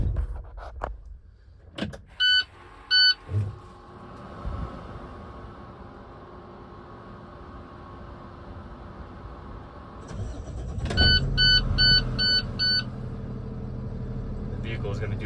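A 2017 International DuraStar 4300 26-foot box truck with liftgate starts up: warning chimes sound, the starter cranks, and the diesel catches into a steady idle, followed by another burst of chimes over the running engine.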